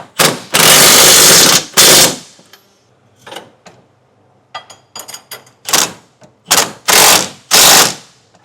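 Side bracket bolts on a B&W Companion sliding 5th wheel hitch are tightened with a ratchet, giving loud bursts of rapid clicking separated by short pauses and lighter metallic taps, close up.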